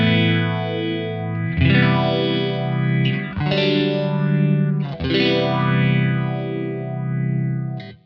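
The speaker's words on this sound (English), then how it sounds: "So first of all, the phase 90." Electric guitar runs through a Phase 90 phaser profile on a Kemper Profiler, sustained chords swelling with a slow, sweeping whoosh, strummed afresh every couple of seconds, clean and up close with no talking.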